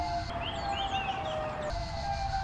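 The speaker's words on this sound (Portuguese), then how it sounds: "o barulho de sirene tá passando por ali." A siren wails past nearby, its rising and falling tones sweeping steadily over a constant background hum, with no talking.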